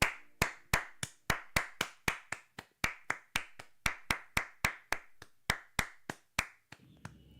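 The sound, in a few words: hands clapping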